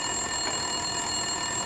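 A desk telephone rings in the video game Max Payne 2, a continuous electronic bell tone that holds steadily throughout the brief moment.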